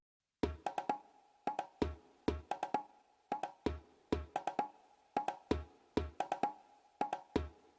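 Bongo hits in a chill drum and bass or house beat made in FL Studio, a short sparse pattern of sharp hand-drum strikes in small clusters, repeating about twice a second, loud and dry with no talking.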